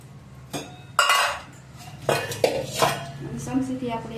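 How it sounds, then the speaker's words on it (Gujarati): A metal spoon scrapes and clinks against a pot while rice and lentils are mixed for Girnari khichdi, several uneven bursts of stirring close up, with no talking. "ચમચીથી આપણે એકવાર મિક્સ કરી નાખીએ પછી બાફવા મૂકીએ."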